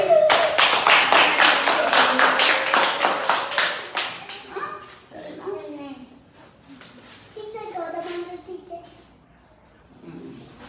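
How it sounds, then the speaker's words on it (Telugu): A group of children in a first-grade Telugu classroom clap together in a quick, steady rhythm for about four seconds, loud and close. Afterwards children's voices talk quietly. "క్లాప్స్ కొట్టండి."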